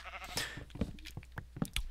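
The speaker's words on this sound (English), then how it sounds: "A new breed of sheep has appeared." A Minecraft sheep bleats in the video game, a short, quiet electronic baa repeated a couple of times over a soft background.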